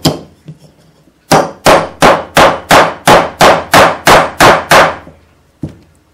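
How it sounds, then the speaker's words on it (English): A plastic weighted leatherworking hammer strikes metal in a steady run of about nine loud, evenly spaced blows, with a stray tap before and one after. "This is a plastic weighted hammer for leather working, actually."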